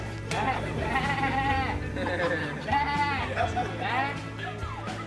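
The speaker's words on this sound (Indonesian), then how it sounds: "Kambing nanti teriak-teriak ya." Several goats bleat repeatedly in wavering cries, close and loud, over a background murmur of people talking.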